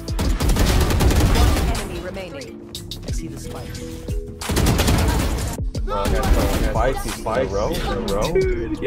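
Shotgun gunfire in a video game: rapid repeated blasts in two loud clusters with a brief lull between, heard under excited voices talking over the action.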